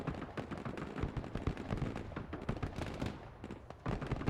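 Grenades launched in Broken Arrow pop and thud in a rapid, dense string of overlapping shots and bursts, steady and fairly loud, with no voices.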